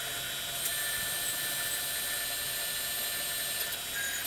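Gun drill machining a hole in a metal valve body held in a four-jaw chuck, giving a steady high whine and hiss that runs unbroken and fairly faint, with no talk.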